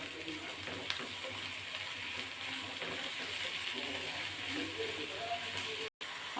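Chopped onion, green chili, ginger and a pinch of salt are stirred in a hot pan, giving a steady, close sizzle that runs unbroken throughout, with a brief cut near the end.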